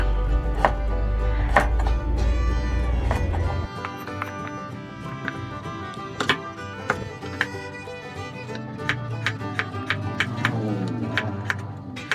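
A knife chops through pumpkin on a cutting board, giving irregular sharp knocks close by, with a low hum at the start.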